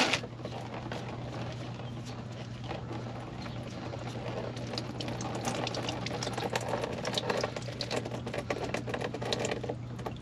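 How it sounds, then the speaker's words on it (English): Hot engine oil draining from a 2022 Ford F250 with the 6.7L Powerstroke diesel, a steady, even trickle and patter of liquid into a pan, low and continuous with a faint hum beneath. "I'm gonna just let that drain first because I can't get that off fast enough."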